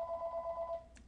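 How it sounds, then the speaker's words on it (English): A telephone rings once, a steady electronic tone that lasts about a second and cuts off, faint and close, with no talking over it. "sorry about that phone."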